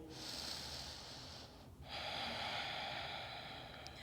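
Slow, deep breathing during a yoga class: a long airy inhale, a short pause, then a steady drawn-out exhale, close and quiet, with no talking.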